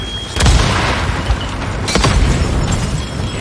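Grenade blast in the video game Days Gone, two heavy booming bursts with deep rumble, loud and close, over a constant noisy game background.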